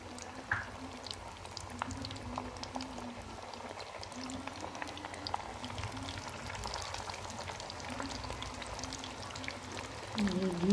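Crumb-coated chicken pieces fry steadily in very hot ghee, a continuous close crackle and fizz with scattered sharp pops running throughout, no talking.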